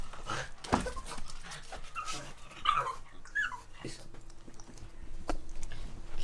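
A puppy pants and whimpers close by, with soft rhythmic breaths and a few brief whines, while people talk over it in a home setting.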